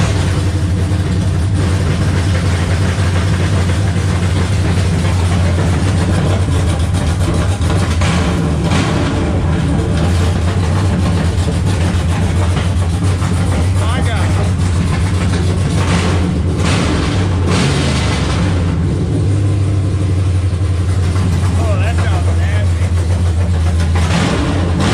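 A 4th-gen Ram truck with Stainless Works long-tube headers idles with a loud, deep, steady rumble close by, and someone talks over the exhaust drone throughout.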